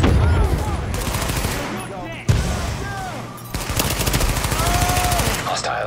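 Gunfire rattles in bursts through a Tom Clancy's The Division firefight, loud and dense, with brief gaps and a sharp blast partway through, over a busy game soundscape.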